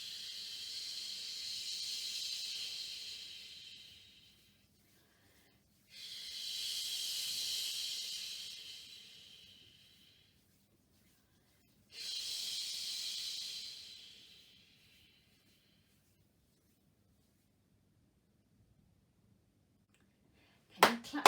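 Three long breathy shh sounds made with the mouth to imitate the sea, each a few seconds long with short pauses between, soft and steady, followed by a brief sharp click at the very end.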